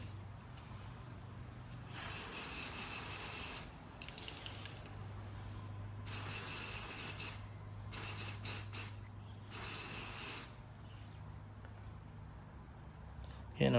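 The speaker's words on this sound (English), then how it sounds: "I'll be using this mass airflow sensor cleaner, and I'll be spraying these two wires" Several long hissing bursts of mass airflow sensor cleaner sprayed onto a car's MAF sensor wires, each lasting a second or two, separated by brief pauses over a low steady hum.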